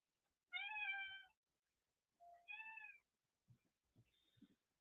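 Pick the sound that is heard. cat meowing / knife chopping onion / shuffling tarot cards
cat meowing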